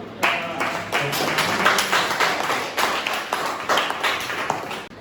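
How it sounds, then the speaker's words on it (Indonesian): Students in a vocational high school classroom break into applause, several seconds of brisk, dense clapping from many hands with sharp individual claps standing out, close and fairly loud. "terima kasih, tepuk tangan dulu"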